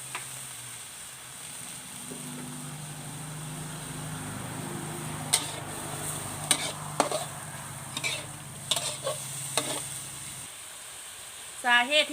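Pork belly stir-fry simmers in a pan after water is added, a soft continuous sizzle broken by sharp utensil scrapes and clinks, with a brief voice near the end.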